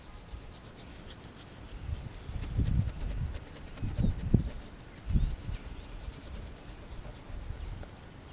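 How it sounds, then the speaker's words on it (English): Rubbing residue off wires on a Key West 1720 boat, producing soft, irregular scraping and rubbing bursts close by, with no speech. "I'm going to clean up some of this residue on these wires"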